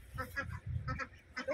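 Ducks being fed at a park, giving several short honking quacks in quick bursts, close by, with a voice talking in between.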